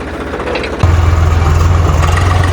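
A 735 model tractor engine starts and then runs steadily at a loud, close, even low throb for the rest of the moment.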